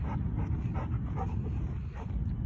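A Golden Retriever on a morning walk pants in quick rhythmic bursts close by, the breathy huffs repeating steadily over outdoor background noise.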